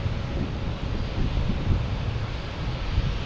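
A Delta airliner taxiing out to runway 22 at Boston Logan produces a steady low rumbling engine drone, mixed with gusty wind buffeting the microphone, continuous and moderately loud.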